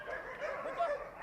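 Police dogs in crime-fighting training yip and bark in a soft, muffled jumble set against steady background noise, sounding somewhat distant.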